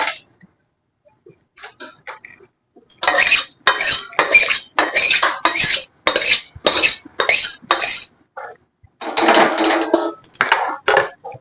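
Cooked tuna curry being lifted out of a pan, with a run of close, sharp metallic clinks and scrapes of a utensil against the pan in quick bursts, separated by brief pauses.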